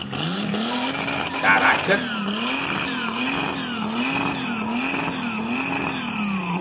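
A Chevrolet Chevette with its engine protruding from the bodywork revs loudly nearby in a rhythmic rising-and-falling warble, with squealing tires and a brief exclamation from a spectator.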